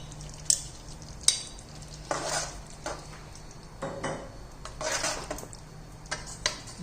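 Crispy honey chilli potatoes fry in a pan and are stirred, with soft sizzling broken by scraping bursts and a couple of sharp utensil clinks against the metal.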